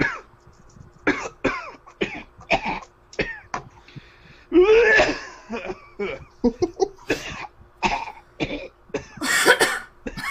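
Repeated coughing and throat-clearing from one person during a Dungeons & Dragons tabletop session, a run of close, harsh hacks with brief breaths between them, loud and with no talk over them.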